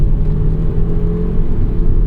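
A 2004 Volvo S60R engine hums while driving, heard from inside a well-insulated cabin as a steady, fairly quiet low drone with a faint whir and no talking.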